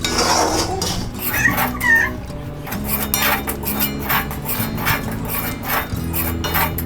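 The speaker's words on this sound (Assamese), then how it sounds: "লৰাই থাকিব লাগিব যাতে তলত লাগি নধৰে।" Semolina being roasted and stirred in a pan: a steady run of metallic scrapes and clinks from a spoon against the pan, close and continuous, with no talk.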